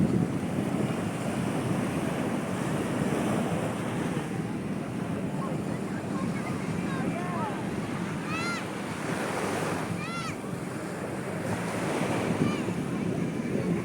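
Ocean surf rolling onto a sandy beach at Infanta, a continuous loud wash of waves with strong wind buffeting the microphone and a few faint voices in the background.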